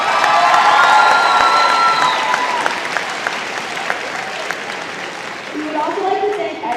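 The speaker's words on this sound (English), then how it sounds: "Please give them a huge round of applause." A school assembly audience at a Wish Week closing event claps and cheers loudly in a large hall, with scattered shouts and whoops over sustained applause that slowly eases.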